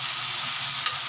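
Jackfruit in coconut milk is stirred in a pan, a continuous bright sizzle and scrape that stays steady and close throughout, with a small clink near the end.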